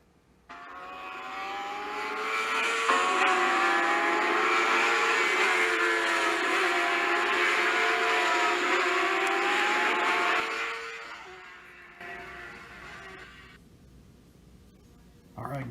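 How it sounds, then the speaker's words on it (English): Recorded sound of racing cars plays under a stop-motion film made with Hot Wheels toy cars, a loud, sustained whining engine drone with shifting pitch for about ten seconds before it fades to quieter noise. "We just found some cars racing through a YouTube video and recorded that audio in"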